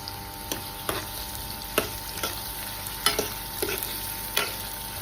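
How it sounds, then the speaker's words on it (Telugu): Thinly sliced onions frying with salt in oil in a pan for an Andhra-style chicken gravy curry: a steady close sizzle broken by regular spatula stirs and scrapes about every second, with no talking. "దీంట్లో 2 ఆనియన్స్ కట్ చేసి పెట్టుకున్నవి సన్నగా కట్ చేసి పెట్టుకున్నాను కదండి, అది వేసుకొని కొంచెం బ్రౌనిష్ వచ్చే వరకు ఫ్రై చేసుకోవాలి"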